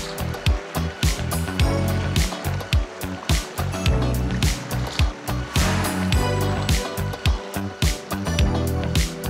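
River water rushing and splashing steadily as people wade across a river on foot in Sabangan, Malaybalay, Bukidnon, loud and close with rhythmic splashing steps throughout.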